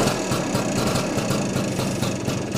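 A 1967 BSA Bantam 175 D10 motorcycle idles close by, a steady, rough single-cylinder putter with constant loudness throughout.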